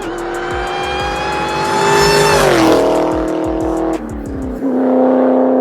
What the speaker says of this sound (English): If we accelerate, you can hear the car over the supercharger.